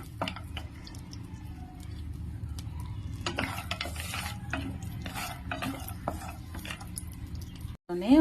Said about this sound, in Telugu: ఒక స్పూన్ ఆయిల్ వేసి అందులో ఒక రెండు స్పూన్లు పల్లీలు వేసి వేపుకోవాలి